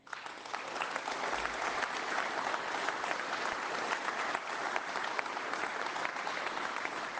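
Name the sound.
crowd clapping at political rally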